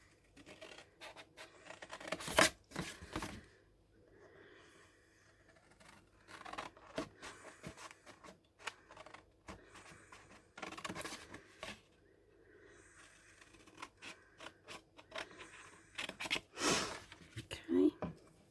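Scissors cutting along scored lines in patterned cardstock for a hinged lidded paper box, making intermittent crisp snips and rustles in short bursts, close and quiet, with a person talking between cuts.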